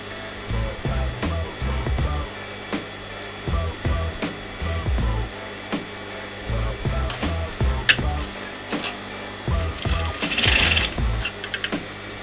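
A sewing machine stitches a kameez neckline in repeated short runs of rapid mechanical whirring, each burst starting and stopping, fairly close, with a brighter hiss near the end.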